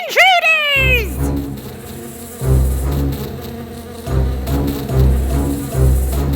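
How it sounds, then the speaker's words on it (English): A loud insect buzz of many giant cartoon bees, droning steadily in waves over backing music after a brief rising swoop at the start. "Dorothy and her friends saw the bees flying towards them"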